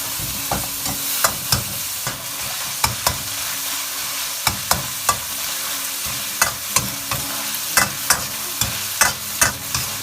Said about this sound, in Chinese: 肉丝炒散之后，把火力调小，放入姜片、蒜片还有豆豉。